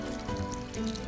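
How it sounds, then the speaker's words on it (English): Water is poured over a hamster's head during a bath, a brief close splashing trickle lasting about a second. "I'm just pouring some water on its head"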